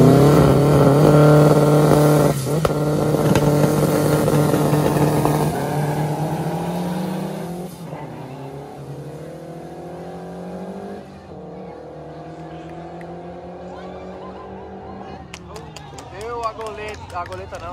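A car at an illegal street race arrives fast, its engine roaring loud and close with rising and falling rev sweeps as it accelerates and then eases off, and voices are heard around it.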